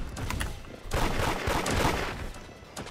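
Gunfire in the Roblox game Da Hood: rapid, overlapping shots rattle on continuously at moderate loudness, dense and unbroken throughout.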